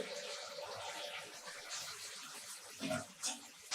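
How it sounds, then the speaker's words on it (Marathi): Hot water is poured into a cabbage vegetable dish made without onion or garlic: a faint, brief splashing trickle into the pan, quiet and close, with no talk. "अगदी थोडंसं आपलं वरचं गरम झालेलं पाणी आपण भाजीत टाकूया"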